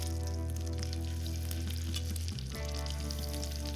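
A seasoned beef tenderloin sears in olive oil and butter in a hot pan, giving a loud, steady, close sizzle that holds throughout with a brief dip midway, and no one talks.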